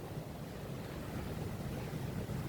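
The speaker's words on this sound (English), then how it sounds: "it's kind of windy today" Steady wind buffets the microphone on the Hawaiian coast at Kahala, a continuous low rushing roar with faint surf beneath and no talking.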